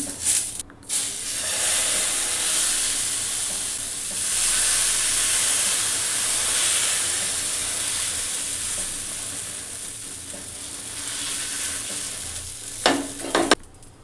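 Oil and dosa batter sizzle on a hot tawa over a gas flame, a loud, steady hiss that fills the whole stretch nearby, with a few brief clatters at the start and end.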